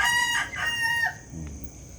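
A round head gray gamefowl rooster crows once up close, a loud strained call with a drawn-out middle and a falling end, followed by quiet background.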